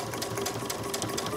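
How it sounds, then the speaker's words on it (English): A sewing machine runs steadily at close range, top-stitching along the edge of a heavy cork and vinyl zipper bag, with a quick even needle rhythm and no talk. "Now I'm going to sew along the other side."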